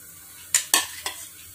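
A pan of mathi (sardine) chilli fish curry is swirled on the stove, giving three quick, close metallic scrapes and clanks within about a second over a faint background hum.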